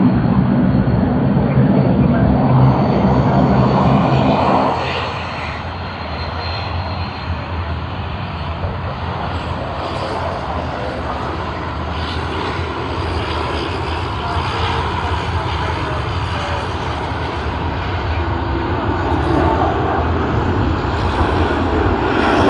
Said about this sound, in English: TG476 has begun its takeoff roll